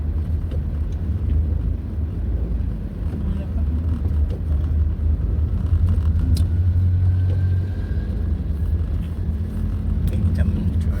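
A car drives slowly through the streets of Jakarta's old town, its low engine rumble and road noise steady and close inside the cabin, with faint traffic sounds around.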